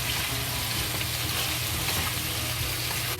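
Bok choy and mushrooms frying together in a hot pan, a steady dense sizzle that stays loud and even throughout with faint scraping of stirring.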